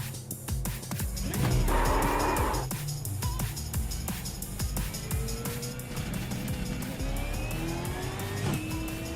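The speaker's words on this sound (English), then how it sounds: "This is the Ford Mustang. Ignition is on." A Ford Mustang starts and runs, its engine loud and close, with revving swells and a steady rumble throughout.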